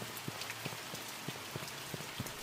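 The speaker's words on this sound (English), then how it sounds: "Is the rain too loud?" Rain in the horror video game The Mortuary Assistant patters steadily and softly on surfaces, with scattered, more distinct drops ticking through a quiet, even hiss.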